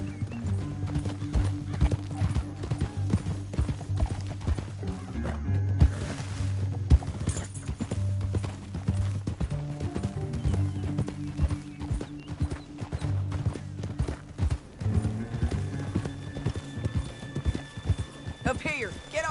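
Horses trot steadily in Red Dead Redemption 2, their hooves clip-clopping in a continuous rhythm with an occasional whinny, heard under voices talking over the ride.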